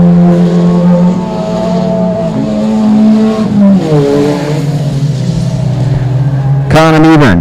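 Race cars roar around the dirt oval at Texarkana 67 Speedway, a loud continuous engine drone that shifts pitch as they rev, with a commentator talking over it and a sharp rising rev burst near the end.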